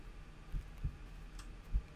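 Low thumping heartbeat in the horror video game Mimic Search, three soft thuds spaced unevenly over a faint ambient drone, fairly quiet and close.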